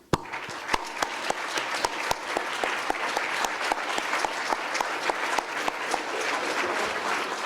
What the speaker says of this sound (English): let's give a round of applause for each other